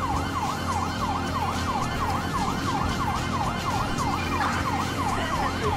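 Police sirens in Grand Theft Auto V wailing up and down in a steady, repeating cycle, loud and continuous over road traffic noise.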